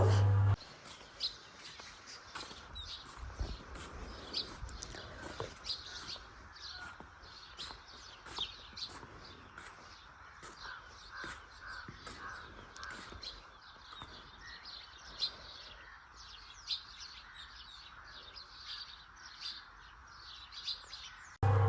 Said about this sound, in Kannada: ನೀನು ಯಾವ ಸೌಂಡು ಪಕ್ಷಿಗಳ ಸೌಂಡ್